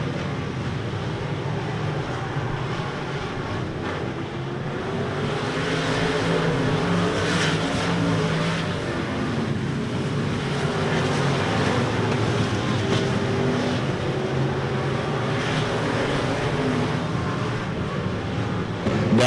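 Race cars roar around an RPM Speedway oval, running side by side down the straightaway, a dense continuous engine drone heard from a distance with crowd-like wash and no break.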